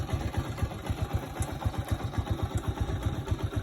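A motorcycle engine runs steadily during a cruising ride, a loud, close, pulsing low rumble with regular beats and a constant rough mechanical drone, with no talking.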